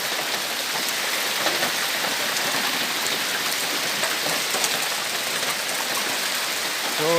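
A heavy village downpour roars on without a break, thick rushing patter of raindrops striking surfaces all around, loud and constant for several seconds, no voices.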